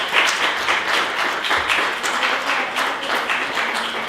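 An audience at a Halloween event applauds in a steady, close round of clapping with distinct individual claps, lasting the whole moment without talk.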